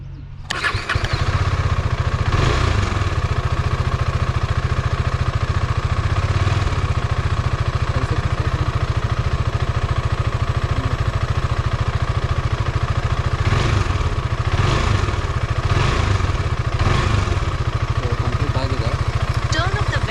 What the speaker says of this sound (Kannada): ಸೊ ಈಗ ಇಂಜಿನ್ ಆಫ್ ಮಾಡಿ 5 ಸೆಕೆಂಡ್ಸ್ ಆದಮೇಲೆ ಮತ್ತೆ ಇಂಜಿನ್ ಆನ್ ಮಾಡಬೇಕು.